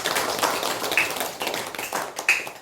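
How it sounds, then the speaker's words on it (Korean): A church congregation applauds at a Parents' Sunday service, with loose, moderately loud clapping in uneven bursts for a few seconds. "우리 헌신한 분들 위해서 한 번 더 박수하겠습니다."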